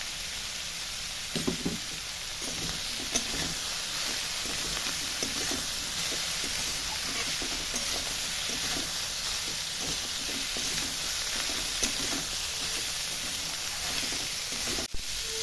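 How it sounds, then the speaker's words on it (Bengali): Cauliflower and potato pieces fry in a pan, giving a constant close sizzle with soft stirring knocks scattered throughout and a sharp click near the end, with no voices. "ফুলকপি আলুটা ভাজা ভাজা হয়ে গেছে"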